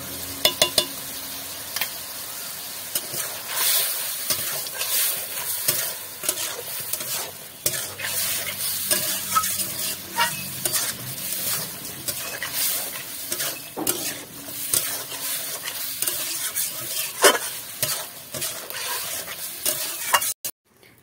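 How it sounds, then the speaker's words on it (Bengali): Chicken pieces fry in hot oil in a wok, with loud continuous sizzling and the repeated scrape and clatter of a spatula stirring the meat, close and with no talk. "আমি মাংসটা আগে ভেজে নেব।"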